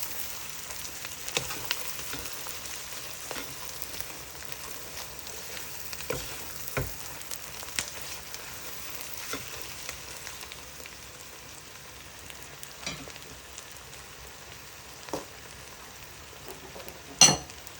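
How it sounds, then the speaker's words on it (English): Prawns stir-frying in a hot pan with a continuous crackling hiss, plus occasional scrapes and clinks of a utensil stirring. "And you continue stir frying it."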